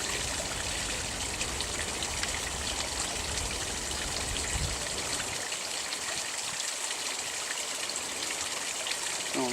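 Water pours steadily into a backyard fish pond, a continuous, fairly loud rushing and splashing that holds evenly for the whole stretch with no voices.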